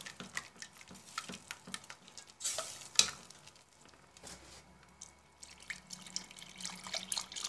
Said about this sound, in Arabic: نخلط كل شيء شويه حتى تدخل لي كامل لافارين